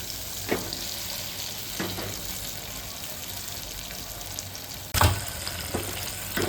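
Potatoes frying and being stirred in a pan for a Gujarati-style potato curry, a soft steady sizzle with occasional spoon scrapes and a louder clatter near the end.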